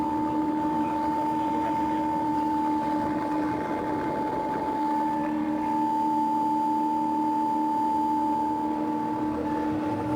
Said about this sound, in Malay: hidupkan Swiss, motor akan bergerak dan berpusing dan mengeluarkan angin